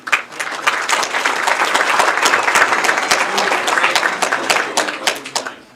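Loud, steady applause from a crowd at a high school football banquet and hall of fame induction fills the space, holding strong for several seconds before tapering off at the end.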